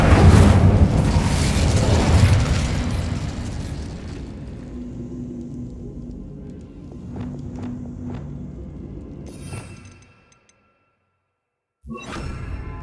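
In Hogwarts Legacy, casting the Incendio fire spell unleashes a loud, roaring burst of flame that fades over several seconds. A few light steps follow before a sudden silence and another short burst at the end.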